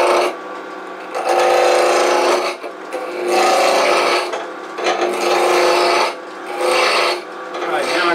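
A turning tool cutting a spinning wood blank on a lathe, giving long, loud, buzzing scrapes in four sustained passes separated by short lulls, close by and with no talk.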